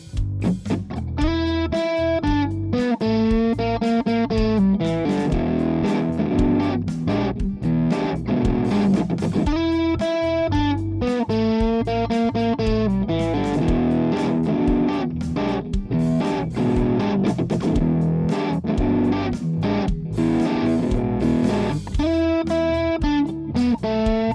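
A distorted electric guitar plays sustained chords and riffs through a plugin emulating a DS-1 distortion pedal, gritty overdrive, loud and continuous throughout, with no talking.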